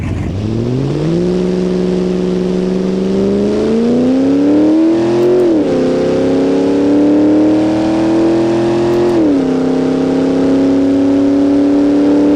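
A Dodge Dakota R/T truck on drag radials accelerates hard in a drag race, its engine droning loud and close, pitch climbing steadily with a brief dip at a gear shift and continuing to rise through the run.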